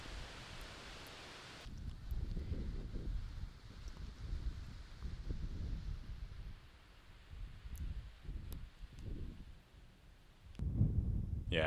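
Gusty wind buffets the microphone on a disc golf course in low, rumbling surges that rise and fall, with a steadier airy hiss beneath.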